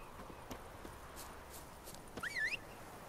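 Faint, soft hoofbeats clop along as a horse walks in The Witcher 3. A short, bright chirp sounds near the end over quiet background ambience.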